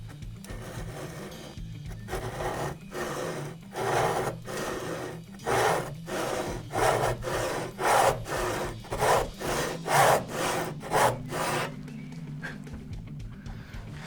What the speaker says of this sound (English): I'm just going to saw down the line with a tenon saw.